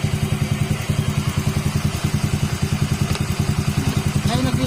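A Honda Click 125/150 scooter engine idles while warming up, with a fast, steady, throbbing putter and some mechanical clatter. It is close and loud, and a brief voice comes in near the end.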